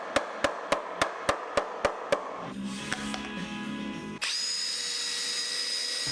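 A power drill drives screws into wooden braces of an assembly table frame: a series of sharp, evenly spaced knocks first, then a whirring drill run that shifts into a higher, steady whine, all close and clear.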